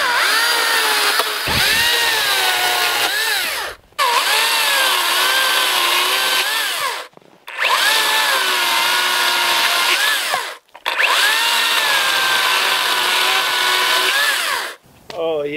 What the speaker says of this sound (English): Another area where I'm totally happy to bust out the new technology is when it comes to the battery-powered chainsaw.